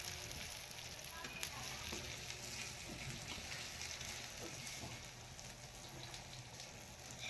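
Mackerel roasting over a wood-fired clay stove gives a steady, faint hiss and crackle with occasional small pops. The sound is continuous and fairly distant, with no clear talk over it.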